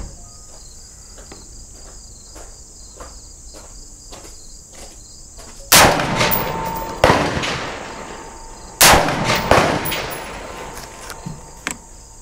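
AK47-type rifle fire at an outdoor shooting range: three loud, sharp shots a few seconds apart, each with a short echoing tail, over a steady insect-like background hum.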